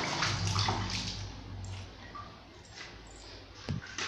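Water splashes and pours continuously into a tub while bathing a newborn baby, steady and close, with small gurgles and a sharp splash near the end.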